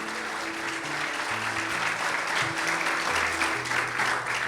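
A church congregation at a wedding service claps together in a sustained, loud burst of applause, with low held music tones running underneath.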